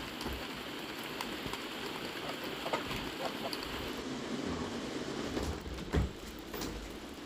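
Steady rain patters on a hard patio surface, a dense continuous hiss with occasional louder drip impacts, no voices.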